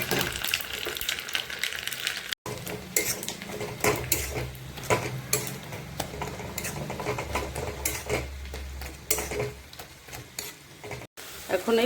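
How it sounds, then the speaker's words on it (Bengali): Garlic, dried chili, mustard seeds and cumin sizzle loudly in hot oil, a dense crackling spatter with stirring and clinks of a utensil against the pan, close and continuous with brief dropouts. "তার জন্য তেল গরম হয়ে গেছে, এর ভিতর রসুন, শুকনো লঙ্কা,"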